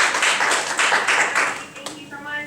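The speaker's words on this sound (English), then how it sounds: "let's give our panel a round of applause" An audience claps for a panel at the close of a social work career discussion, a dense patter of hands that thins out after a couple of seconds; a voice starts speaking at the end.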